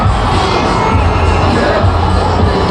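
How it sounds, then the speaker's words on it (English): Dense, roaring crowd at the New England Patriots' Super Bowl LIII victory parade, loud and continuous cheering and shouting from many voices, some children among them, with no gaps. "the crowd just gets louder with every duck boat that goes by"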